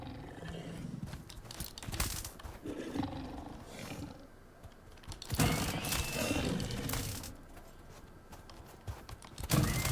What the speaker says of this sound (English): we found one of the boars